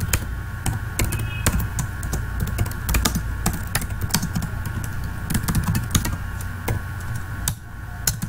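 Rapid keystrokes on a computer keyboard while typing commands on a Windows Server machine, a steady stream of close, crisp clicks with brief pauses over low background hum, no talking.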